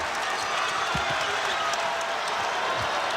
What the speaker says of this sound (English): Wisconsin crowd getting into it.